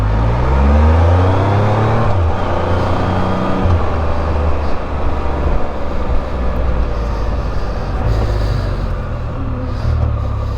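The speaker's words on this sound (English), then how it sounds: "you would swear there was an air shifter on these things when they're downshifting" A 2022 Can-Am Spyder RT Limited three-wheeled motorcycle rumbles loudly and close while riding, its engine note stepping down in pitch several times as it downshifts, with steady road and wind noise throughout.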